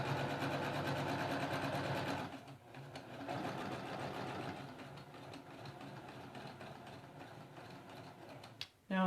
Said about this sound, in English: I'm just going to sew down one side